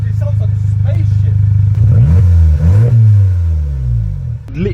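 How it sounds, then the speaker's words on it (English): A Volkswagen Scirocco fitted with a new exhaust idles with a deep, loud drone, then revs in quick blips that rise and fall, while people talk nearby. "Literally the tiniest amount of throttle."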